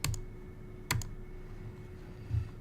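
A few soft keystrokes on a computer keyboard during Houdini 3D software work, with isolated clicks spaced across a couple of seconds in a quiet room.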